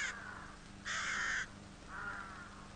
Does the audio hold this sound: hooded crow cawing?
yes